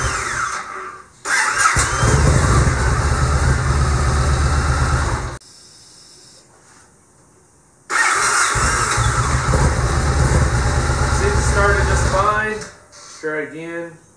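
A Yamaha XV1700 Warrior motorcycle engine cranks on a rebuilt starter in two long loud whirring bursts with a short pause between them, and a brief sputter comes near the end.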